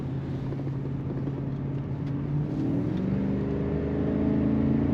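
A 1998 Cadillac DeVille sedan accelerating hard as its automatic transmission kicks down, a steady low engine drone that rises in pitch and swells louder toward the end, with wind noise, no talking.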